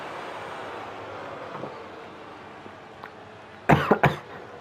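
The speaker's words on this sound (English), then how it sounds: "Sorry for coughing." Two harsh coughs in quick succession, close and loud, break through a steady background rumble of game audio near the end.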